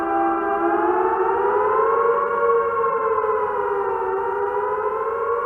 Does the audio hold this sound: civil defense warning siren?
yes